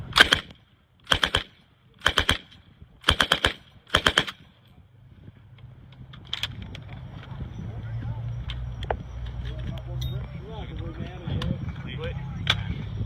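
An M60 machine gun test firing at an outdoor military show, five sharp, loud, evenly spaced bursts, then crowd murmur and distant knocks afterward.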